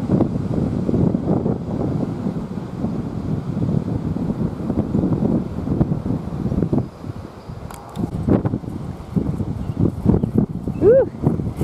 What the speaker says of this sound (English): It's real windy today, as you can hear